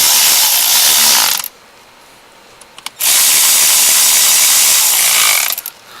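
A ratchet or power driver tightens the valve cover bolts on a 2002 Mercedes ML320 3.2L engine, making two loud, close bursts of rapid mechanical whirring separated by a brief quiet pause with a couple of clicks.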